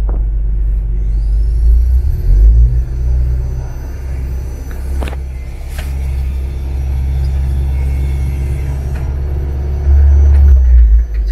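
Close up, a Jeep Wrangler JL engine is held at a steady 2000 RPM, giving a loud, constant low rumble that swells briefly near the start and again near the end.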